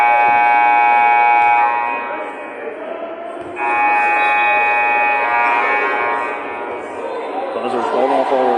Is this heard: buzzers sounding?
yes